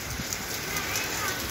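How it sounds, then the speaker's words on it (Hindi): Heavy rain falls in a steady, dense broadband hiss that holds evenly at moderate loudness throughout, with faint voice-like murmurs underneath. "अभी अच्छी खासी जो है ना बारिश हो रही है"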